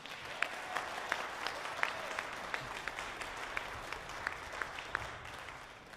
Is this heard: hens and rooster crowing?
no